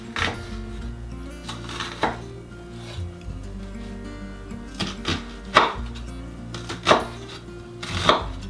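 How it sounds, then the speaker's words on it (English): A knife dices vegetables on a board for a hearty homemade winter chicken stew, with a run of sharp, close chops at irregular intervals over soft background music. "we're just gonna dice this up"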